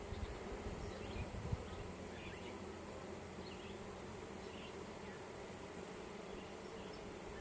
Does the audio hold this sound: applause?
no